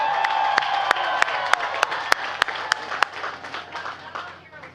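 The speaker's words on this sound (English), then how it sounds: "let's give them a round of applause" A graduation ceremony crowd claps and cheers, a few sharp, close hand claps punctuating a broad wash of applause and voices that gradually thins out toward the end.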